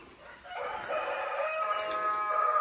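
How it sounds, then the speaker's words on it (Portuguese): Chickens in a henhouse, a rooster crowing loudly and close, its drawn-out call rising over a quiet background. "E do outro lado o galinheiro, ó."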